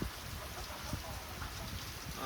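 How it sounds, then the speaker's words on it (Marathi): Heavy morning rain pours steadily on a farm, a dense, even hiss with no break and no voices. "असं पाऊस आहे"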